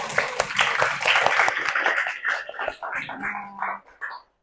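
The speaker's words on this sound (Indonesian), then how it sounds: "Boleh tepuk tangan semuanya." A small group claps briskly for a few seconds, then the applause thins out into scattered claps and soft murmurs.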